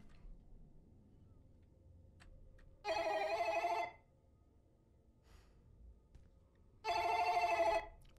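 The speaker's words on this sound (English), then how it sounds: "It's a very loud phone." A loud video game telephone rings in two separate bursts of about a second each, several seconds apart, with quiet room noise in between.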